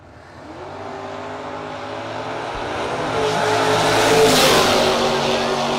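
Drag race cars, a Monza and an Achieva, launching at a no-box drag racing event, engine roar swelling steadily over several seconds into a loud, sustained drone as they accelerate down the strip.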